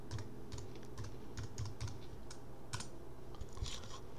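Keystrokes on a computer keyboard as a Linux command is typed, a quick irregular run of light clicks with short pauses, close and fairly quiet over a steady low background hum.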